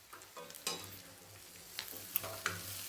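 Peeled raw mango pieces fry in a pan over low heat, giving a faint, steady sizzle with a few soft clinks and stirring scrapes, close by with no talking.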